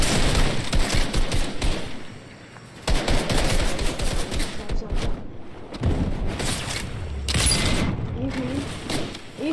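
Gunfire from the video game Fortnite comes in rapid bursts and single sharp shots, loud and close, broken by short pauses, with game effects and a voice talking between volleys.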